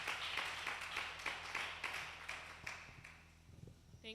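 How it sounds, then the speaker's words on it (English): Scattered applause from a small audience after a speaker at a youth business seminar: distinct claps repeating at a moderate pace, quiet and fairly close, thinning out and fading toward the end. "It's a round of applause."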